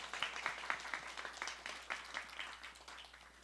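Congregation applause during an Easter high-school church service, a roomful of clapping heard at a moderate distance, fairly soft and steady before gradually tapering off.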